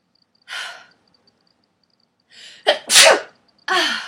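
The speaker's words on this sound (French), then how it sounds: "je vais éternuer" A short breath in, then a sharp, loud sneeze burst, followed by another quick breathy exhale nearby.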